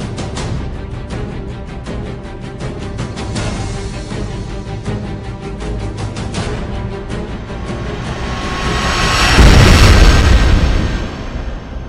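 Deep rumbling roar with crackling bursts that swells into a loud booming blast near the end, a Type II supernova explosion sound effect.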